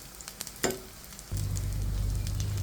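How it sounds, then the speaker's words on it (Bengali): Oil sizzles steadily in a pan as pumpkin-flower and pointed-gourd fritters shallow-fry, after a few faint clinks at the start, the frying hiss growing louder and continuous partway through. "এই যে উল্টে পাল্টে খুব সুন্দর করে কিন্তু ভেজে নিচ্ছি"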